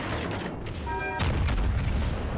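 The Yamato battleship's main guns in World of Warships Legends let off a single deep, rumbling boom partway through, over steady low engine and sea noise.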